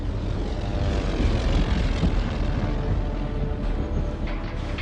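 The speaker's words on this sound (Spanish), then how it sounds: "Vi que había 2 aviones cerca de nosotros" Propeller airplanes droning in the Battlefield 1 video game, a steady, loud engine roar that holds throughout with no voices.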